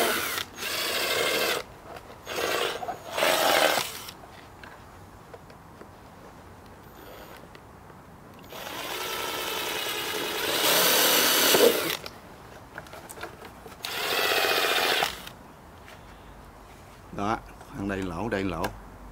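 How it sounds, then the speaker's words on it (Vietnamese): A power drill bores holes in a plastic bottle cap in several short whirring bursts separated by pauses, close and loud, with a person talking between the bursts. "Bây giờ mình khoan cho các bạn xem."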